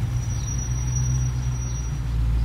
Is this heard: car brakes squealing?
yes